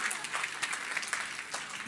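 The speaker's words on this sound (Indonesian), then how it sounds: "kasih tepuk tangan semua" Church congregation clapping during a sermon, a short burst of dense, steady applause from a crowd of many hands, fairly close and lasting under two seconds.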